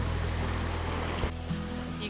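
Celtic Sea waves wash into a cove below ruins near Cork, Ireland, a steady broadband roar of surf with a brief louder surge partway through, heard close and continuous.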